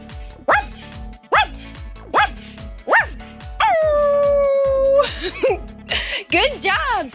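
Children's voices imitate a dog, giving a series of short rising yips and woofs, one long sustained howl-like bark, then more quick playful barks, all close and loud over a steady rhythmic music track.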